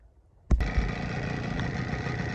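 An Evinrude Johnson 9.9–15 hp outboard engine idling after a sharp knock, a steady close mechanical hum holding even for a couple of seconds.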